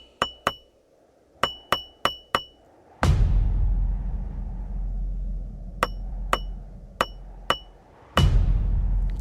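A hammer strikes a lizard fossil in a quick series of sharp, ringing clinks, then a deep rumble swells, then more spaced taps follow before another low roar.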